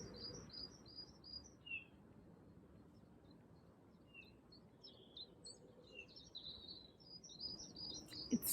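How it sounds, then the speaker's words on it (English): Small birds chirp and tweet in quick repeated phrases at a distance over a quiet garden hush, with a few soft rustles near the end. "Can you hear the birds?"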